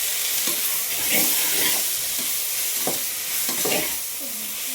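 Chili powder, salt and coriander masala stirred in a hot pan, a continuous soft sizzle and hiss with several light scraping strokes at an irregular pace.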